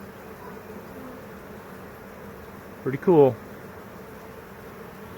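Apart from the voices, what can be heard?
honey bee swarm entering a hive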